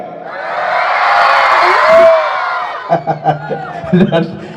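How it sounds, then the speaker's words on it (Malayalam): A crowd at a school gathering erupts in loud, sustained cheering and whoops that swell and then break into shorter bursts of shouting and applause near the end. "കൂവനോ കൈയ്യടി രണ്ടും നല്ല ശക്തിയിലാണ്"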